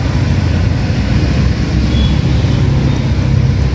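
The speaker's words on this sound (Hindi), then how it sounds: "पीछे पूरा ट्रैफिक चल रहा है, खुली हवा, पेड़ के नीचे" Steady roadside traffic rumbles behind an open-air barber spot under a tree, a continuous low wash of passing cars and heavier vehicles with no break and no voices.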